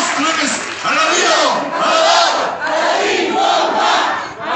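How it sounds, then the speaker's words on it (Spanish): Political supporters at a committee swearing-in ceremony in Cuautlancingo, Puebla chant a loud rhythmic cheer in unison, their shouting voices swelling and dipping in repeated phrases, close and energetic throughout. "¡Y esa porra para Leli! ¡Una, dos, tres! ¡Arriba!"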